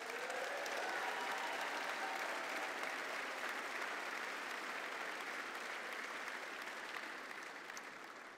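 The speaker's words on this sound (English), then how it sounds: "we need to give them a big round of applause" Dense, loud applause from a large audience at a community gathering with the Canadian-Ukrainian community, sustained for several seconds before beginning to taper off at the end.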